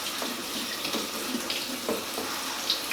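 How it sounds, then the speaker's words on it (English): Soaked red peas rinsed under a running kitchen tap, a steady rush of water with splashing and small knocks in the sink, close and continuous. "So we just rinse them just like so."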